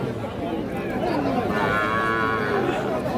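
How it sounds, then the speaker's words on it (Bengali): A busy cattle market where young bull calves are sold, with a low moo rising over constant crowd chatter and people talking nearby. "এটা ষাঁড় বাচ্চা।"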